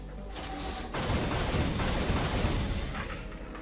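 Rapid, sustained automatic gunfire from a combat assault rifle in the game Unreal: Return To Na Pali, a dense roaring burst that kicks in after a brief lead-in and rattles on loud and close.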